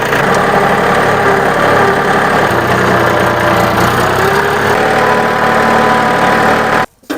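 A homemade mini tractor with a cultivator runs its engine in a loud, close, continuous drone that keeps a steady throb, then cuts off abruptly near the end.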